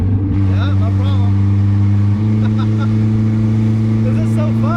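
A 1981 Toyota Corona Wagon's engine, heard from inside, hums steadily at close range and shifts pitch as the driver rev-matches a downshift, with a loud exhaust note running throughout. Talk from the cabin sits over the engine.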